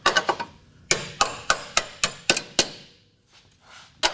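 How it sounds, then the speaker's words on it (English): Steel hammer tapping a bolt into a car's lower control arm during a Chevrolet HHR suspension repair: about a dozen sharp, ringing metallic taps, a quick cluster then a steadier beat, close and loud, then a faint rustle. "Went ahead and grabbed a hammer because sometimes it helps to tap it up in there too."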